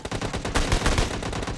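Rapid gunfire in the PUBG Lite battle royale video game, a dense loud burst of automatic shots lasting the whole short moment, close and without talk.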